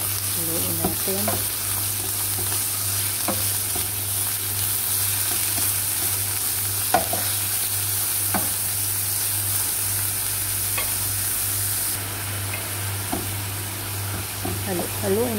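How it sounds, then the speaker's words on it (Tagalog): Shrimp being stirred in a frying pan with a steady sizzle under a constant hum, while a utensil scrapes and knocks against the metal at intervals. "Haluin natin ang hipon"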